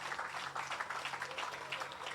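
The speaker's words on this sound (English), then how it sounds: "Give him a round of applause and his brother for me." A crowd at a housing presentation in Roseau gives a faint, even round of applause, a soft continuous patter of many hands sounding somewhat distant.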